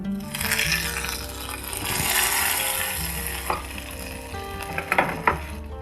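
A hot pan of sweet potato payasam hissing and bubbling loudly as liquid goes in, with clanking utensil hits and a cluster of sharp metallic knocks toward the end.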